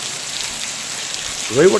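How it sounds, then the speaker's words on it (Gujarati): Rain falls steadily across Maliya Hatina taluka in Gujarat as a constant close hiss of drops, with a voice briefly starting up right at the end. "સમગ્ર માળીયાટીના તાલુકામાં આજે સવારથી જ વરસાદ ચાલુ છે"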